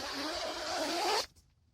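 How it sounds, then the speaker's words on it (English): Zipper on the door of a Coleman SunDome two-person tent being pulled open in one steady, close, fairly loud run of about a second, stopping abruptly, followed by quiet. "See, this zipper only works up and down."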